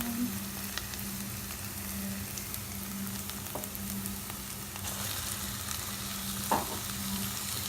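Steady sizzling of ground beef frying in a pan, a continuous crackling hiss with a low hum underneath and an occasional scrape of stirring.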